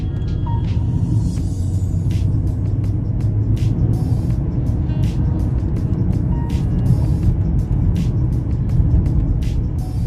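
A Mercedes Benz car pushed hard on the road: a steady, deep engine and road rumble that stays close and loud throughout, with small clicks and rattles over the top and no talking.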